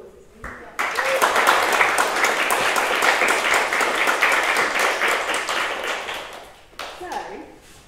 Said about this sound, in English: I feel like round of applause.